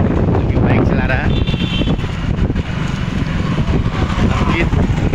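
Steady, loud wind rush and engine rumble while riding along on a motorbike, buffeting the microphone throughout, with a voice talking over it.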